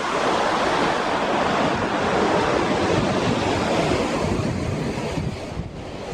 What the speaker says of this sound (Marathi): आमचं वांगणी समुद्र बघा.